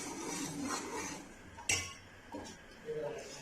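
A metal spoon clinks and scrapes against a pot while stirring milk with crushed cardamom and almonds, a few scattered taps with one sharp clink partway through, under faint kitchen background.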